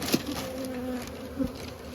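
Honey bees buzz close by at commercial hives in Texas in a brief, steady drone with a couple of louder passes as individual bees fly near.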